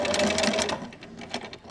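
A sewing machine stitches a mitered corner in fabric, buzzing quickly in short bursts that slow and stop, close by and alone.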